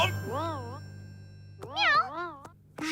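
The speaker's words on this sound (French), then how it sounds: "C'est Précieuse, le petit chat!" Precieuse, a small cartoon kitten, gives several high, wavering meows, one on its own and then a quick cluster of two or three, close and clear against a faint background hum.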